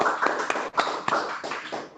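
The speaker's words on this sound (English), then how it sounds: "A round of applause for you" An online conference audience gives a short round of applause, with uneven clustered claps and taps that rise and fall close to the microphone.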